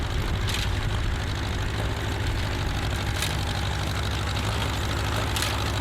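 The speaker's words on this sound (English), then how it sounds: "Tractor is a 1946 McCormick built in France." A 1946 McCormick tractor built in France runs steadily nearby, its engine giving a continuous low rumbling drone with a rough, even pulse and no break throughout.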